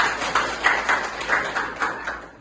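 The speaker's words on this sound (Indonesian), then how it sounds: "Tepuk tangan dulu untuk Zahra." Several scattered hand claps from students in a classroom, moderately loud and fairly close, in an irregular rhythm over a quiet room.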